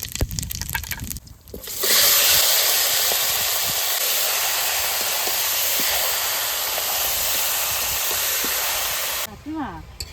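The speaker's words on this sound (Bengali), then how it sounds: "কড়াইতে সামান্য তেল দিয়েছি এবার ফোড়নে দিয়ে দেবো জিরে আর তেজপাতা" Cumin and bay leaf hit hot oil in a wok, producing a loud, continuous hissing sizzle that lasts several seconds at close range, with some faint sounds just before and after.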